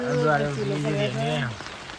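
Steady rain patters in the background while a person talks over it close by.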